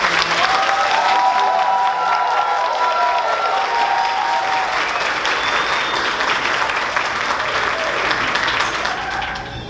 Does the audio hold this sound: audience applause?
yes